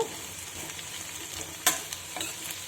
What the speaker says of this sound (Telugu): కాకరకాయ ముక్కలు వేసి వేయించుకోవాలి. మధ్య మధ్యలో మనం కదుపుకుంటూ ఉండాలి